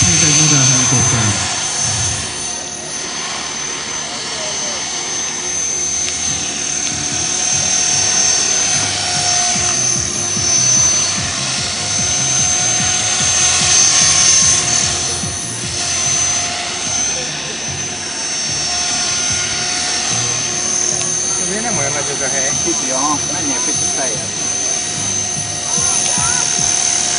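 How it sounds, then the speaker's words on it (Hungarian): A radio-controlled model helicopter flies at a village-day air show, its steady, continuous turbine-like whine carrying across the open field, with crowd noise and occasional talk in the background. "A levegőben pedig ismét egy modell helikopter."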